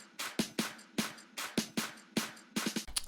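A percussion loop in the build of an electronic dance track, sharp bright hits in a syncopated repeating pattern, fairly loud and alone.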